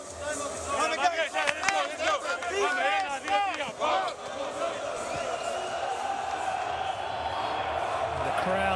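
A basketball crowd of PAOK fans roars and chants in an arena, loud and continuous, with voices and shouting mixed in throughout.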